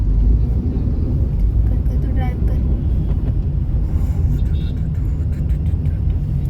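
Car driving through city traffic, heard from inside as a constant low engine and road rumble that fills the whole stretch, with faint traffic sounds further off.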